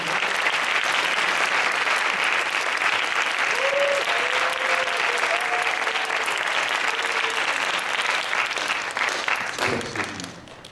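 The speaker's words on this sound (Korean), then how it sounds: "박수 한번 쳐주세요." A congregation at a Friday night campus chapel service claps steadily in a full, dense burst of applause. A brief vocal tone rises above it, and the clapping fades near the end.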